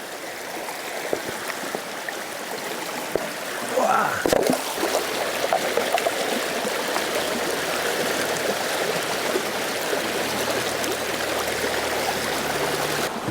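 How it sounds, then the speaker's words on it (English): A glacial river flows strongly past a gold sluice, a dense, constant rushing wash of water with a few brief knocks; a voice briefly exclaims. "Now in this river, there's plenty of water moving. Almost too much water."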